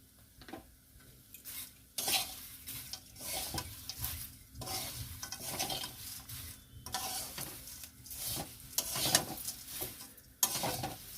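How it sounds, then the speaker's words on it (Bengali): Spiced flattened rice with salt, turmeric and red chilli powder fries in a pan, stirred again and again. Scraping and clattering strokes come in uneven bursts over a soft sizzle, close and clear, with no talk. "নাড়তেই হবে খুব ভালো করে, বারবার নাড়তে থাকতে হবে"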